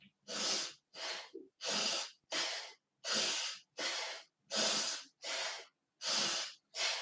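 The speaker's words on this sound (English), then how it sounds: "deep breaths out of the nose" Deep exhalations pushed out through the nose during a yoga flow, about ten steady breaths in an even rhythm, close and airy with short silent gaps between them and no talking.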